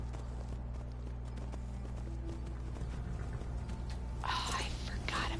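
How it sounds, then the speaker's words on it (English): A horse in a video game clip-clops at a walk as it moves away, its soft hoofbeats blending with a constant low hum while a voice whispers over them and louder talk comes in toward the end. "The horse is gonna walk away."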